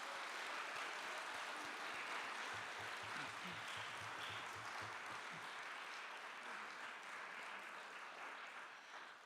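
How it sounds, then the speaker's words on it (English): Sustained applause from an audience at an evening debate event, loud and steady clapping throughout that tapers slightly toward the end, with no talking over it. "let's give all of our debaters one more round of applause"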